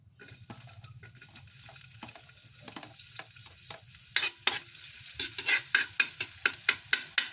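Onions for sisig fry in a pan with a quiet sizzle, then rapid, rhythmic clacks of a spatula stirring build toward the end, close by with no voices.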